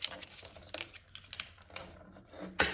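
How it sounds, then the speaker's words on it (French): A bone folder pressed and drawn along paper folds makes dry rubbing and scraping strokes in short bursts, ending with one sharp, louder crisp swipe; nobody speaks. "à l'aide de mon plioir, je vais venir marquer tous les plis"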